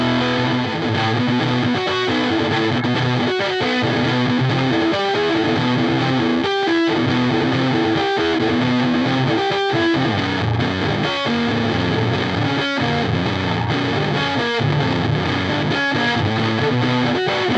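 Heavy distortion effect pedal at full gain with its second gain stage engaged, a thick, saturated electric guitar tone playing chords and riffs continuously and loudly, with no talking.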